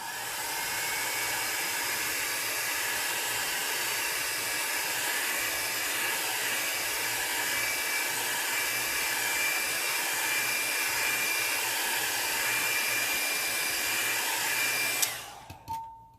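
Hair dryer blowing steadily to dry an alcohol ink sunflower painting, a continuous airy whooshing hiss at moderate level for the whole stretch, then switching off abruptly near the end.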